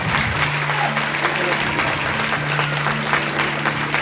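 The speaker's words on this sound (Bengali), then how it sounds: "শুভ্রদীপের জন্য একটা হাততালি হয়ে যায়" A round of applause from an audience at a dance-drama event, steady and fairly loud clapping throughout with a low steady hum beneath it.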